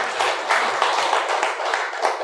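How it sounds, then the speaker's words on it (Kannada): An audience at a New Year Ugadi festival celebration applauds loudly, a close, bright roar of many clapping hands holding steady throughout. "ಪತ್ರಿಜಿಯವ್ರಿಗೊಂದ್ಸಾರಿ ಜೋರಾಗಿ ಚಪ್ಪಾಳೆ ಮಾಡಿ ಅಭಿನಂದಿಸೋಣ."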